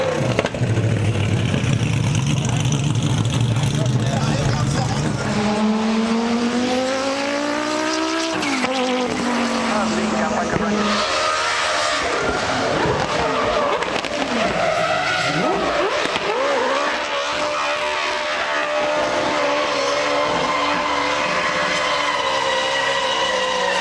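A Brabham race car with Brabham's own engine runs at the Goodwood Festival of Speed, its loud engine rising and falling through gear changes while tires skid and squeal, close and intense throughout.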